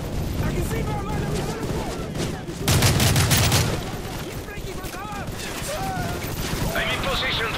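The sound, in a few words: machine gun fire in Call of Duty: Modern Warfare 3 video game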